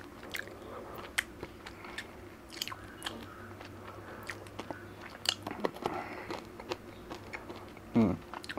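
Close, crisp crunching and biting of hard Tic Tac mints, a steady run of small crackling bites with one louder crunch near the end, intimate and alone with no talk.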